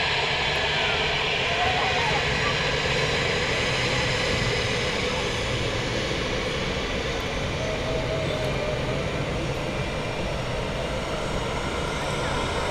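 An EasyJet airliner at Manchester Airport roars steadily as a broad, continuous engine rush that holds loud and near through the whole stretch, with wind-like hiss on top and a voice talking faintly beneath it.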